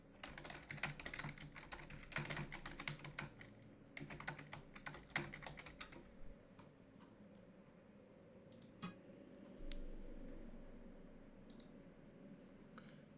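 Notes being typed on a computer keyboard for an outage call web map, a quick run of close clicky keystrokes that tapers into a few scattered taps and quiet, with no talking.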